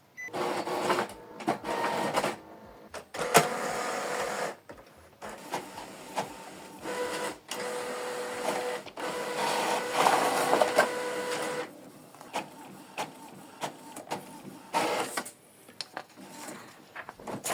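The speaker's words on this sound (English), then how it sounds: "So load the document you want to copy on the ADF and select start." An Epson EcoTank ET-4950 printer copies a document fed through its automatic document feeder, giving repeated mechanical whirring, clicking and feeding passes with short pauses between them, close and fairly quiet.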